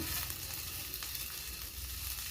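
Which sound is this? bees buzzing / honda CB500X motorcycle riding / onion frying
onion frying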